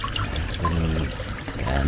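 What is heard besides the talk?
water trickling into a koi pond channel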